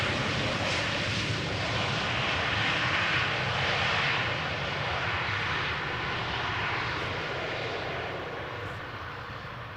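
An airplane passes at Amsterdam Schiphol Airport as a steady, broad engine roar that fills the whole stretch and fades slightly toward the end.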